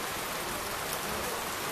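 Heavy rain pouring down in a steady, uniform hiss of drops on surfaces, constant and fairly loud, with no speech.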